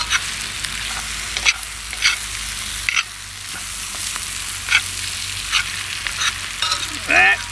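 Polish kielbasa and onions brown in a pan on a wood gas stove outdoors. A loud, crackling sizzle sits close by, broken by repeated scraping stir strokes and a short metallic clatter near the end. No voices.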